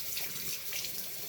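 Tap water running into a sink during face washing, a soft steady splashing stream with a few brighter surges, quiet and close, with no talking.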